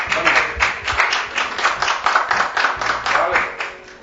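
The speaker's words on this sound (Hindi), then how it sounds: "जोरदार तालियों से स्वागत बबीता पांडे।" Audience clapping at a Diwali poetry gathering as the next woman poet is welcomed, steady close applause with broadband bursts throughout and a voice speaking over it.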